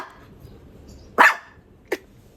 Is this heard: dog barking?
yes